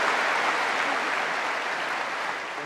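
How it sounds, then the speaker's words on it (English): Sustained, dense applause from a large audience at the ADIPEC 2023 opening ceremony, loud and steady throughout before tapering slightly at the end, with no voices over it. "Can we give them a nice round of applause, please?"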